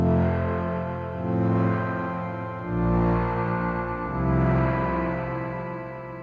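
A synthesizer chord runs through Pulsar Primavera saturation blended with reverb, a warm, sustained tone that swells and changes in slow waves, with a lingering wash behind each phrase.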